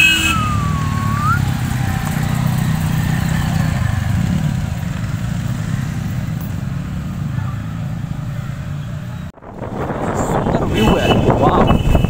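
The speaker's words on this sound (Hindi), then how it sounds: "और ये हमारे बाइकर्स निकल चुके हैं" Bikers' motorcycles ride off on a Manali trip, giving a steady engine drone mixed with heavy wind buffeting. The drone cuts out abruptly near the end, and rougher, noisier sound follows.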